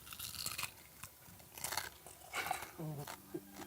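Crisp crunching and biting as a swallow bird's head is chewed, with the skull breaking in quick bursts, close to the mouth, while people talk in between.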